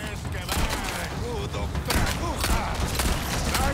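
Gunshots in Resident Evil 4 crack out in a dense, noisy game scene, several sharp bursts spaced a second or so apart over steady background clamour, with a voice speaking throughout.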